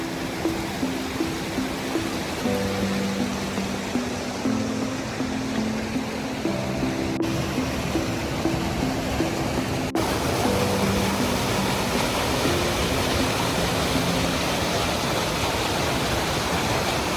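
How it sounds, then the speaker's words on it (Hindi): A waterfall in the mountains near Harsil village in India roars steadily, a dense unbroken rush of falling water that fills the whole scene, with no voices over it. "Finally we reach at the waterfall."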